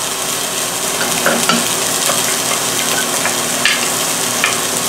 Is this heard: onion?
yes